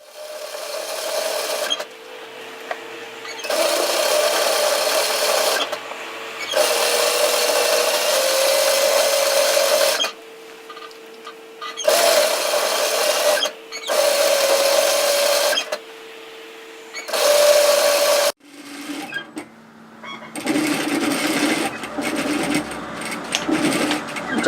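A sewing machine stitches the hem of a woven kimono robe, running in loud close bursts of steady whirring separated by short pauses, with a different lower-toned mechanical stretch near the end.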